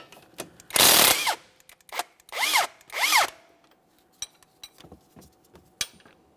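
Power tool bursts on the axle mounting bolts of a 2014-2018 Mazda 3 during a front left CV axle replacement: three loud whirring runs, with metallic clinks and clicks of tools between them.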